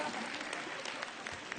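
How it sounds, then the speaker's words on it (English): Applause from a summit audience for a geologist speaker, a brief, moderately quiet patter of clapping with scattered louder claps. "Round of applause"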